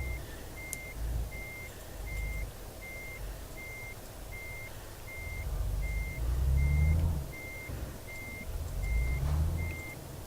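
Reversing beeps from a truck maneuvering its trailer in Euro Truck Simulator 2, a steady evenly spaced series of about fourteen beeps over a low diesel engine rumble that swells and fades as the truck moves.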